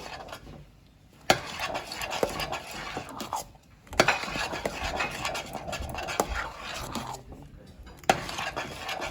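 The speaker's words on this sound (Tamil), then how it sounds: "இதை கைவிடாமல் கிண்டினா தான் அடியில் ஒட்டாது எரியாது" A spoon stirs thick mudakathan leaf kali in a pot, making repeated scraping and knocking strokes against the vessel, close by and fairly quiet, with brief pauses between bursts of stirring and no speech.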